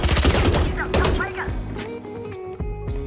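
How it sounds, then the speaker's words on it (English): Rapid bursts of gunfire and heavy impact thuds from the Valorant video game during a match, loud and dense, with a player talking over the shooting. "He's gonna be shooting me."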